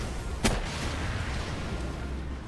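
A single sharp gunshot crack rings out early in Palworld combat during a boss fight against Bellanoir Libero, over a steady low rumble of game ambience.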